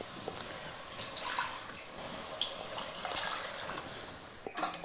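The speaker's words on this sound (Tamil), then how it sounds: "இப்போ நம்ம மிக்ஸி ஜார் அலசி அந்த தண்ணி ஊற்றிட்டு அதுக்கப்புறம் தேவையான அளவுக்கு தண்ணி ஊற்றிக்கலாம்" Water splashing and trickling into a pressure cooker pot for mutton curry, rinse water from a mixer jar, a steady pouring with a few clinks and bumps of a vessel near the end.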